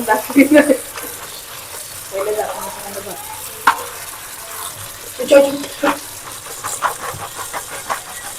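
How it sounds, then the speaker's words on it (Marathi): Running tap water splashing over bean pods being rinsed outdoors for a Konkan-style chicken popti, with intermittent splashes and handling noises, faint voices in the background. "हे बघा पूर्ण शिंगा चांगल्या प्रकारे धुवून घेऊया"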